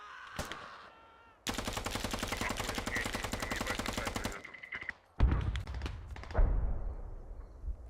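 Gunfire in the video game Squad: a single sharp shot, then a long rapid machine-gun burst of evenly spaced cracks, followed by a few heavier close bangs and thuds, loud and without speech.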